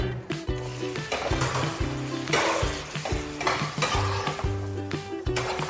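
Pork ribs with peeled Feizixiao lychees are stir-fried in a thick sugar glaze with honey vinegar, the loud steady sizzle broken by rhythmic spatula scrapes and clanks against the wok, with no talking.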